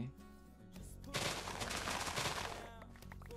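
Cannons firing in the video game Ancient Warfare 2 set off a dense burst of booming, crackling blasts. The volley swells after about a second and holds as a sustained roar before easing off.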